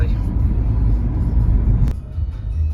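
A Renault Megane 4 with the 1.5 dCi K9K diesel and automatic gearbox cruising at top speed on a busy highway, a steady loud low cabin rumble of engine and road noise with a brief dip near the end.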